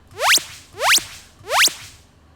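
Three rising synthetic laser zaps sweep upward in pitch, evenly spaced, each a bright bending tone with a short tail.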